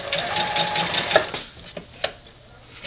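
Sewing machine stitching a fabric piece back into a quilt layer, a steady fast mechanical whirring chatter up close, with a few sharp clicks and knocks near the end.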